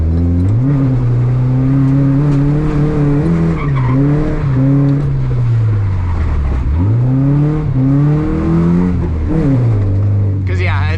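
A turbocharged Nissan 240SX with 4.6 gearing and 200-treadwear tires revs hard toward redline in first gear, its loud engine note repeatedly rising and falling over the full clip, with a brief tire squeal-like edge at the end.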